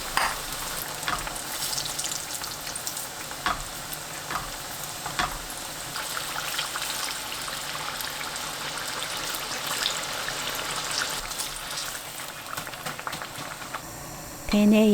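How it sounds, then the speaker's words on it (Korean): Eggplant pieces coated in starch and frying powder deep-fry in plenty of hot cooking oil, giving a loud, continuous bubbling sizzle that stays steady throughout and swells briefly at the very end. "식용유 넉넉하게 붓고 기름이 달궈지면 가지 넣어 튀깁니다."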